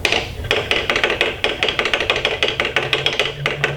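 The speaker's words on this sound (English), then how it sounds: "To lower it, just lift up the automatic brake and turn it." A model hammerhead crane's windlass is cranked with its automatic brake lifted, producing a fast, even series of close, sharp clicks like a ratchet pawl.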